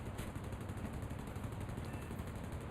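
Aircraft machine guns rattle in rapid, continuous bursts during a War Thunder air battle, a dense, fairly faint chatter running under a steady engine drone.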